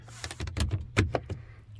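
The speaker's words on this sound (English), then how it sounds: "the doors on this vehicle have a solid closing sound, a good thunk" A door on a Hyundai Palisade or Kia Telluride SUV shuts with a solid thunk, followed by a few shorter close knocks and clicks of the latch, heard up close with no talking.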